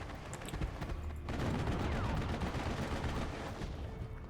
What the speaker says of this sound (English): MG42s fighting against OBs.